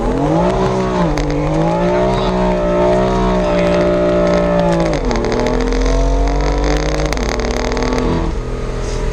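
A 2016 F82 BMW M4 Competition at full throttle, its engine note climbing hard and loud, dropping sharply at each gear change before rising again, close and unbroken.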